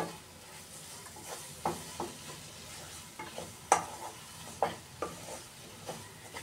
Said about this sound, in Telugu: బాగా కలిపి ఒక 2-3 మినిట్స్ వేయించుకొని స్టవ్ ఆఫ్ చేసేసుకుందాము.